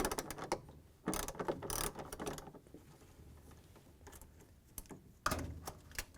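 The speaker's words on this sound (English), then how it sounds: "The grounding strap is held in with a 10mm nut. We're going to use our socket and take it off." Socket wrench ratcheting a 10mm nut off the grounding strap of an LG/Kenmore front-load washer, a quick run of dry mechanical clicks in short bursts, fairly close and with no talking.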